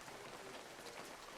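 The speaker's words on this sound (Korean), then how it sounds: "내리는 빗소리를 들으며" Heavy rain falling outside a military guard post at night, a steady soft hiss of drops with no other sounds, faint and continuous.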